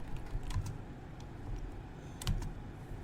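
A few faint, scattered keystrokes tap on a computer keyboard over a low background hum.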